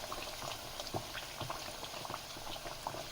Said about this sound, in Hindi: जब ये स्लो स्लो फ्राई होते जाएंगे तो ये जो है टिक्की ऊपर आती जाएगी ऑयल पे